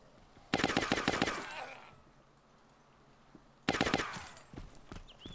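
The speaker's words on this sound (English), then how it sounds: "Is that my friend shooting or was that him shooting?" Two loud bursts of rapid automatic gunfire in the video game ARMA 2 DayZ, each lasting about a second, separated by a quieter pause with faint background noise.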